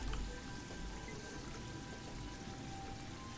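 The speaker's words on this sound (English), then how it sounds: "it's raining, it's not windy." Steady rain falls in the video game Terraria, a soft, even patter of drops that stays quiet and constant throughout, with no voices over it.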